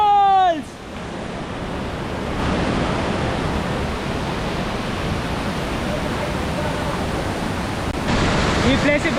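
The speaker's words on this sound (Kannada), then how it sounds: "ನೀರು ಫ್ಲೋ ಅಂತ ತುಂಬಾ ಜಾಸ್ತಿ ಇದೆ." Kalu waterfall in Maharashtra's God's Valley, a heavy, steady roar of rushing water after a brief voice at the start, with wind buffeting the microphone.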